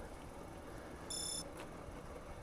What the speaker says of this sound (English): That's it beeping to tell me I've gone off course.